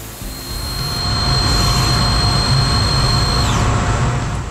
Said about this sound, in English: And that faces the end of the material off.